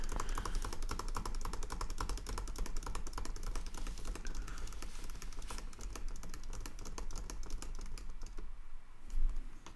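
Rapid, steady typing on a computer keyboard, close and clear, with dense key clicks running continuously and only a brief slowdown near the end; no voices.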